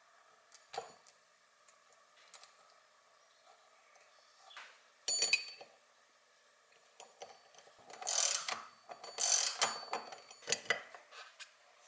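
Ratchet work on a Honda CRF50 while a new JT sprocket goes on: scattered metallic clicks and clanks with bursts of quick ratcheting near the end, close and fairly quiet, no talking.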